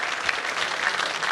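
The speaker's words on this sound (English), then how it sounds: "May we have a great round of applause for our wonderful global change makers" An audience at a We the Women awards event in London claps steadily for honoured change makers, a dense, even burst of applause lasting a moment.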